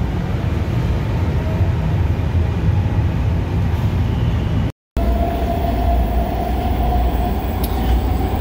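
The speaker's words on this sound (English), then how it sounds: "Who else would want to go spend an entire day riding the entire metro" A Washington Metro (WMATA) subway train rides between Ashburn and East Falls Church, with a loud, continuous rolling rumble heard from on board and a brief dropout partway through.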